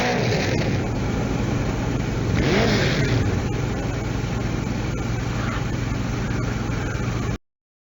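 Revving ATV engine in the SpongeBob Underwater ATV game, a steady mid-pitched motor drone with surges of acceleration, loud and continuous before cutting off abruptly.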